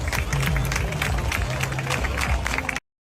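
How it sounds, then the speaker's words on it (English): A crowd in Brazil clapping to signal a lost child's parents: dense, steady applause of many hands with murmuring voices, continuous for almost three seconds before cutting off abruptly. "in Brazil, everyone claps when a kid is lost to attract and signal their parents"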